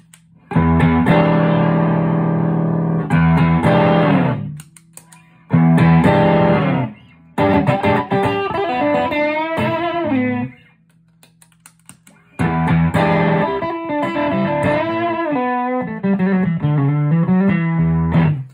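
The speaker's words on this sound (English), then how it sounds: "it can be used as light, low gain distortion overdrive, be used nice medium gain overdrive" Overdriven electric guitar playing chords and melodic phrases with a gritty, warm distortion from a Kingsley Mason tube overdrive pedal, in several loud passages separated by brief pauses.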